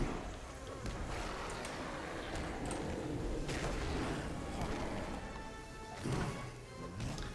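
A buzzing bee swarm summoned by a Beorning's skill in the online game Lord of the Rings Online drones continuously beneath game combat effects and impacts, with some sharp hits rising out of the din.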